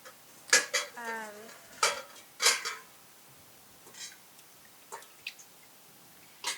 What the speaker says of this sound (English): now we're going to scoop the curds using a slotted spoon into this colander